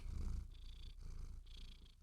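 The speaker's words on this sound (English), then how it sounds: "if you don't mind the sound of purring in the middle of everything" A house cat purrs close to a microphone in a quiet room, soft rhythmic rumbling with airy inhale and exhale cycles repeating about every half second.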